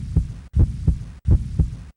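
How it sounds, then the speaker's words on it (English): Human heartbeat from the game A.D.A.M. The Inside Story, a loud, close, regular lub-dub thumping repeating about three times in quick succession, with brief silent gaps between bursts and no talking. "Here we've illustrated away some of the tough fibrous coating of the heart and great vessels so you can get a better look at Adam's heart beating"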